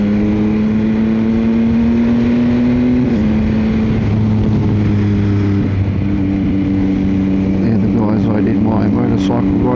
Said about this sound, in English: I love the sound of that Kelpie exhaust